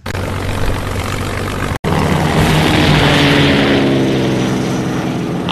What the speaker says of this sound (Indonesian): Akhirnya, 4 pesawat pun diterbangkan untuk misi ini.